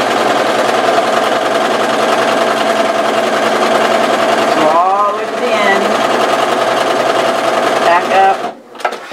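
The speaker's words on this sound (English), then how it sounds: "now go ahead and sew down" Sewing machine stitching elastic onto a zipper face mask, a loud, continuous close mechanical whir that stops briefly midway and then restarts, with a voice talking over it.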